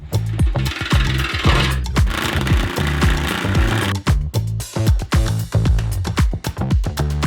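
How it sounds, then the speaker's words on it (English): Aluminum being cut for a Porsche truck build, a loud rapid series of harsh grinding, chattering bursts with short pauses between passes, close to the microphone. "Aluminum sucks to cut."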